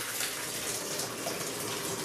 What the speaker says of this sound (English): we're going to take and dump that rest of those berries in there